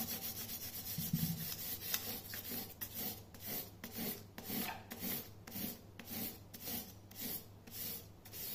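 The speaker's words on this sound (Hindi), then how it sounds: "कलर को आराम से होल्ड करिए हाथ में फर्मली और जेंटली रब ऑन द शीट" A crayon is rubbed back and forth on a sheet of paper laid over cardboard, giving close, soft rasping strokes in a steady repeating rhythm with no voices.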